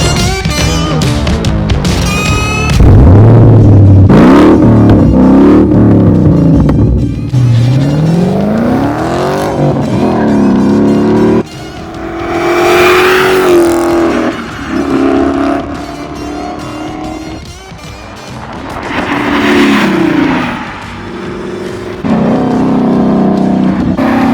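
A Shelby GT350 Mustang's dual overhead cam engine roars loudly and close, revving up and down in repeated sweeping surges and whines, then settling into a sustained drone between bursts, with no talking.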